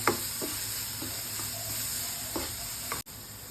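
Masala sizzles steadily in a hot pan for a Rayalaseema-style egg curry, a continuous frying hiss broken by a few soft scraping stirs and a brief dip near the end.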